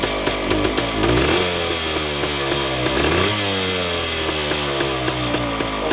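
A Yamaha DT360A two-stroke motorcycle with a rough idle revs with the choke off, its engine buzzing loud and close and rising and falling in pitch through two clear revs.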